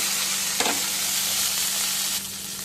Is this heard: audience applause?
no